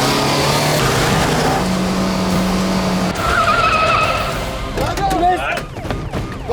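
Tires skid and a car is rammed during a TV crime drama chase, loud and continuous with engine roar, screeching squeals near the end and tense shouted voices underneath.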